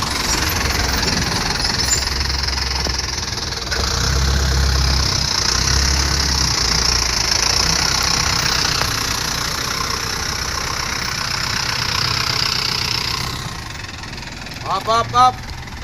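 A 2021 14-foot JAC pickup truck idles steadily at close range with a continuous mid-pitched engine drone and a faint knocking. A voice speaks briefly near the end.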